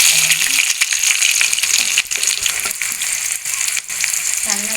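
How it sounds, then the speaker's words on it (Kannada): Finely chopped onion frying in oil with mustard seeds and green chillies, a loud continuous sizzle with crackles and occasional clinks of a stirring spoon against the pan. "ಸಣ್ಣಗೆ ಹಚ್ಚಿಕೊಂಡಿರುವಂತಹ ದಪ್ಪನೆಯ ಒಂದು ಈರುಳ್ಳಿ ಎಣ್ಣೆಯಲ್ಲಿ ಚೆನ್ನಾಗಿ ಫ್ರೈ ಮಾಡಿಕೊಳ್ಳೋಣ"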